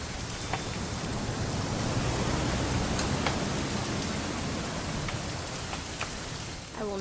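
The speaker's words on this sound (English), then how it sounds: "It's gonna rain the whole weekend" Steady rain pours in the video game What Remains of Edith Finch as a dense, even hiss with scattered drip taps, close and constant throughout, with no voices.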